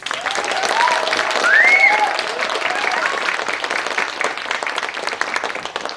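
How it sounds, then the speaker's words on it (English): Audience applause at a festival performance, a steady wash of clapping lasting several seconds with a brief swell near the middle, fairly close, with a voice faintly heard over it. "Can we give them another round of applause?"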